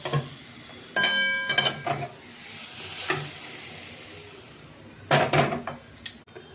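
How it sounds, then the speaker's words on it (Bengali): Mustard oil hits a hot wok in a home kitchen, bringing short bursts of sizzling and clattering spatula-on-pan stirring in separate spurts, close and fairly loud, with quieter crackle in the gaps. "এবার কড়াই সর্ষের তেল দিলাম"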